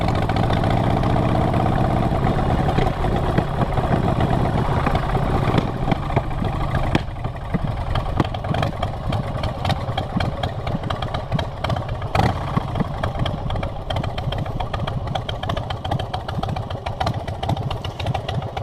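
A Suzuki Hayabusa motorcycle engine idles close by in a driveway with a steady, throbbing rumble that never lets up.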